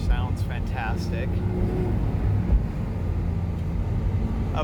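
Porsche 997 Gemballa Avalanche tribute engine droning steadily while driving, close and continuous beneath someone speaking.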